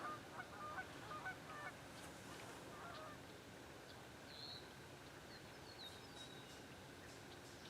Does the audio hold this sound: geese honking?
yes